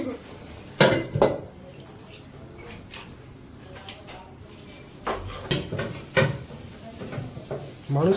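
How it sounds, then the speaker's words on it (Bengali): Metal scraping and clattering from a kadai (wok) being scrubbed clean, in uneven bursts of rubbing and clanks with quieter gaps, close by. "সারা রাত কি কড়াই ঘষবে নাকি?"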